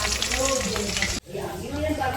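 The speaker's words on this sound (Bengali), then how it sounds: "এখানে মাছ ভাজা চলছে" Fish frying in oil in a pan in a home kitchen, a dense steady sizzle that drops out abruptly for a moment, then resumes with crackling and stirring.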